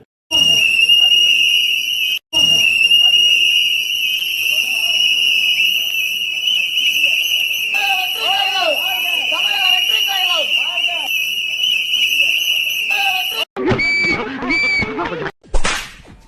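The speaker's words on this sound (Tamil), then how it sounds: "விசில் சத்தம் கேட்குதுப்பா" A shrill whistle blows in long sustained blasts, loud and near, with voices chattering underneath and a brief break near the end.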